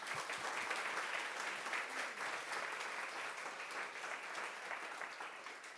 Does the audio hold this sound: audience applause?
yes